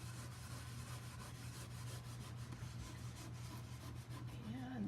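A chalk transfer stencil is rubbed down by hand onto a surface, producing a soft, continuous, close-up scraping rub over a low steady hum.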